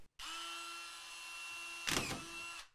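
A Dewalt 20V Max drywall screwgun runs steadily at its slower speed setting, a close, continuous motor whine with a steady tone, briefly swelling louder near the end before it stops.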